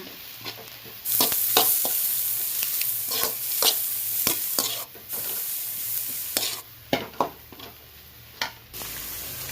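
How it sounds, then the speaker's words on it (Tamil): Egg rice frying in a pan as soy sauce is stirred in: a steady loud sizzle with repeated scraping strokes of a spatula, sharper scrapes near the end, and no voices. "இப்போ கொஞ்சமாக சோயா சாஸ் ஊற்றிக்கலாம். நல்லா கலர்க்குங்க."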